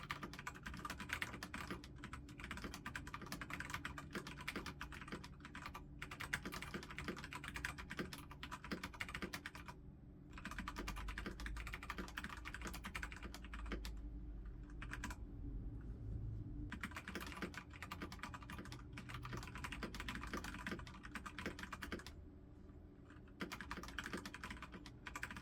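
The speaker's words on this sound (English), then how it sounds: "So yeah, the Keychron K4 with MX Cherry Grays. Really heavy keys." Continuous typing on a Keychron K4 keyboard with heavy Cherry MX Gray switches, dense rapid clacks that run on steadily, with only brief pauses, close and fairly quiet.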